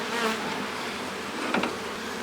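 Honey bees buzz steadily around a nuc fitted with a frame feeder, a dense, close, continuous drone with a few individual bees passing nearer, and no talking.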